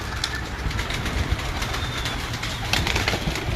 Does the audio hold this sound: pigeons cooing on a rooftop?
yes